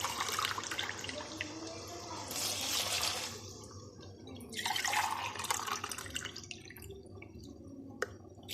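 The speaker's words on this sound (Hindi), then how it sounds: "इसमें मैं 2 गिलास पानी के डालूँगी" Water pours into a cooking pot for a pulao, two glassfuls going in, in bursts of splashing and trickling with dripping between them, close by and with no one speaking.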